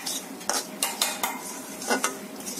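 Semolina frying in ghee in a pan, stirred with a spoon: a soft sizzle runs underneath while the utensil gives repeated scraping clinks against the pan at an irregular pace, close by and with no talking.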